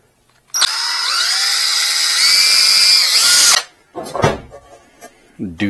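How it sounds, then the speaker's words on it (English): A loud electric drill with a small bit whirs steadily for about three seconds, then stops, followed by a few clunks and handling noises. "Take a small little drill bit."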